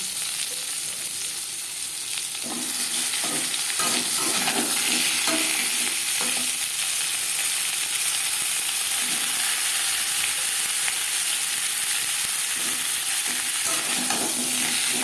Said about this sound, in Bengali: কোরনের সাথে আম বেশ ভালো করে মিক্স করে নেব আম হালকা করে ভেজে নেব